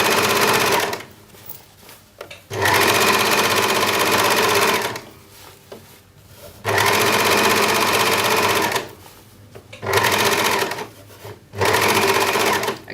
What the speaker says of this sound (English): And then you overlock across the front.